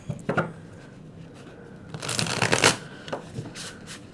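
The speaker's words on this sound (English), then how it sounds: "I'm going to shuffle one more time." Tarot cards riffle and slap together in several quick shuffling bursts, close and crisp, with short pauses between.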